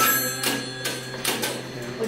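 An old telephone at a museum ringing, a bright bell-like ring in a few repeated bursts, close and loud, with voices talking over it.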